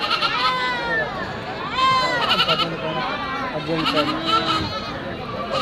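Goats bleating at the Kadiri goat and sheep market, several loud nearby wavering bleats repeating over a few seconds, with people talking and bargaining in the background.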